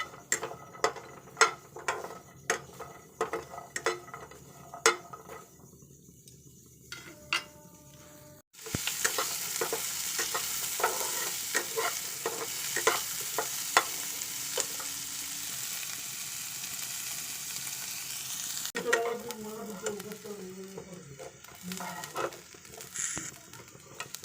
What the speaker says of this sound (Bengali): তারপরে অল্প তেল দিয়ে একটু আদা ভাজা করে নেব।